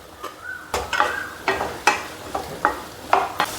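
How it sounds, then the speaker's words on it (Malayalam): Onion, chopped carrots and potatoes are sautéed in a pan, with a soft frying hiss broken by a series of sharp stirring scrapes about every half second, close and fairly clear. "എന്നിട്ട് നല്ലപോലെ നമുക്കൊന്ന് വഴറ്റിയെടുക്കാം"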